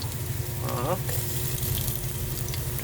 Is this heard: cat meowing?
no